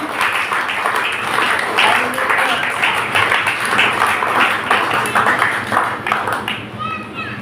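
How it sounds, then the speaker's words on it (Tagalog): A church congregation at a United Pentecostal worship service applauds loudly and steadily for several seconds, with a voice speaking over the clapping. "Palakpakan natin ang Panginoon, mga kapatid. Malakas sa palakpak sa Panginoon."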